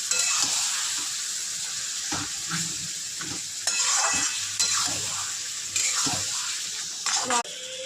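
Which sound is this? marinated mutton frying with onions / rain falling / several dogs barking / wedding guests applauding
marinated mutton frying with onions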